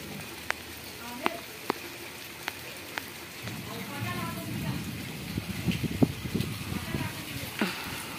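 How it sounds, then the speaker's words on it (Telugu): Rain falling outdoors in a garden with a guava tree, a steady soft patter with scattered sharper drop clicks, gradually thickening in the latter half. "అదిగోండి, చూసారా వర్షం ఎలా పడుతుందో?"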